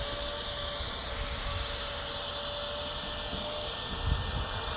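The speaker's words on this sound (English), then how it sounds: "the pump is more to help you deflate it" An electric pump sucks air out of a Lost Horizon 4 Season camping mattress, a steady loud whirring drone that holds constant throughout.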